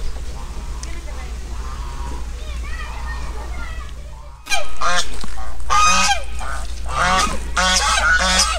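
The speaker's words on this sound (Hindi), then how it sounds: "इस तरफ इन्होंने जो है ना बतख भी रखे हुए हैं।" Ducks and geese quack and honk loudly close by in a city park in Dera Murad Jamali, Balochistan, a busy chorus of calls, with people talking nearby and outdoor background noise.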